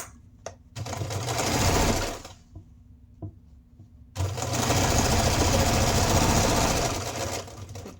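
Sewing machine stitching fabric for silverware holders, two loud sustained bursts of rapid mechanical stitching separated by a pause with small clicks and thumps.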